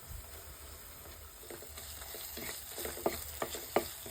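A masala of wilted tomato, turmeric and crushed chilli powder fries in a pan, giving a soft steady sizzle with sharper scraping stir strokes toward the end, quiet and close with no talking.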